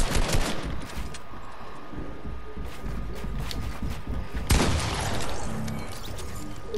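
Rapid bursts of automatic gunfire in a Fortnite match, dense and continuous across the clip with a louder volley near the end, no speech over it.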